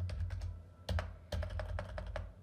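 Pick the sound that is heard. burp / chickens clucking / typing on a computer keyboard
typing on a computer keyboard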